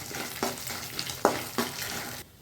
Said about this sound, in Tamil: இப்போ இது நல்லா செவக்க வதக்கலாம்